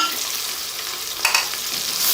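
Onion paste frying in a pot of oil while being stirred, a steady sizzle with a burst of scraping and spattering midway, close and without talk.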